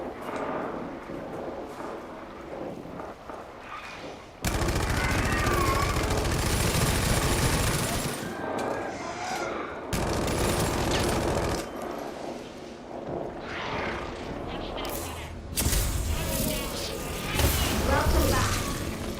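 Bursts of gunfire from a video game during a live stream, with rapid volleys and heavy booms that come and go in loud waves and some quieter stretches between them, mixed with voice chat.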